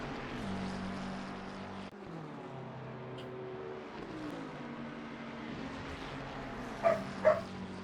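Dogs bark twice, short and close together, near the end, over a steady hum of racing cars and engines circling Monza.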